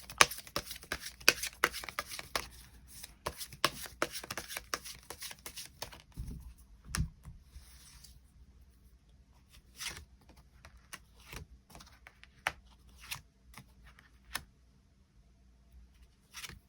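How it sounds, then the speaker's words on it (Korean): Tarot cards handled up close: several seconds of dense, crackling shuffling, then sparse soft taps and slides as individual cards are drawn and laid down, quiet and without talking. "이 관계에 대한 조언 추가 카드 뽑아보도록 하겠습니다"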